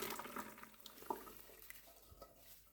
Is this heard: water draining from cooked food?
yes